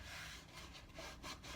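Sanding the rough edges of a rustic wooden bar stool, a soft continuous rasping scrape with uneven back-and-forth strokes, fairly quiet and heard on its own.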